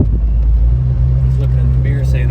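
A car speeds close behind and past a moving 1973 Ford Mustang convertible, a loud, steady low road rumble with engine drone that stays near throughout, while a voice talks over it.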